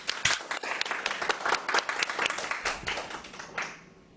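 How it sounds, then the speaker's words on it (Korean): Audience applause welcoming a guest speaker onto the stage at a business setup meeting, a dense steady round of clapping from a sizeable crowd that fades out near the end. "김건희 사장님을 큰 박수로 모셔보도록 하겠습니다"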